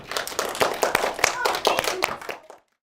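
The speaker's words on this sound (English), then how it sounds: "Give yourself a round of applause." A small group of schoolchildren clapping in a classroom after an engineering lesson, a quick scattered burst of individual hand claps close by with a bit of chatter mixed in, stopping abruptly near the end.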